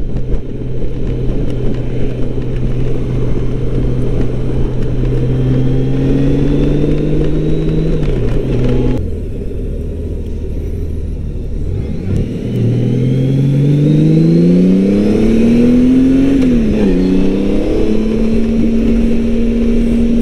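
A Honda Goldwing GL1800 motorcycle engine hums close by and climbs steadily in pitch through the gears, with a brief drop at a shift and then renewed acceleration, no voices heard.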